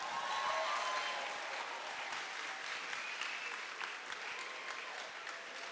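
A church congregation applauding in praise, sustained dense clapping from many hands that holds steady and then slowly tapers, heard from a little distance with no voices over it.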